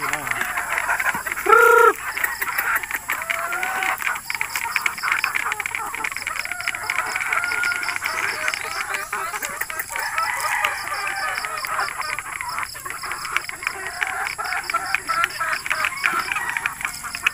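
Large four-month-old Beatles White chickens cluck and call in a yard, with one loud crow-like call early on, over a steady bed of chirping insects or frogs and a voice talking.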